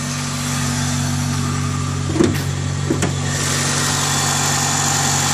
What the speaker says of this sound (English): Injectors are a little noisy, but whatever.